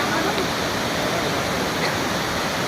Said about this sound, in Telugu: వాటర్ ఫ్లో పెరిగింది ఇప్పుడు వర్షం పడ్డది కదా ఒకటేసారి వరద వస్తున్నది